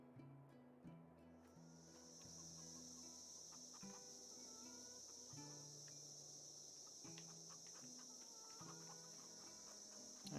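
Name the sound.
crickets chirping at night in video game Farmville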